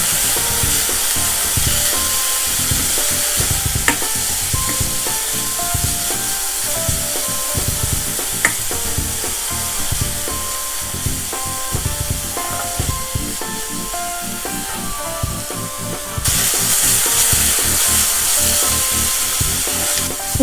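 Banana roll filling sizzling in a hot pan after a tablespoon of milk is added, a steady loud hiss and crackle that continues throughout and swells briefly near the end.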